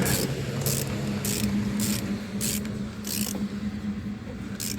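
Ratchet wrench snugging the bolts of adjustable rear upper control arms on a 2000–2015 Ford Focus, a run of six quick rhythmic clicking bursts over low background hum, close up with no talk.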